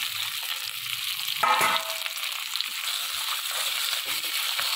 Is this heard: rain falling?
no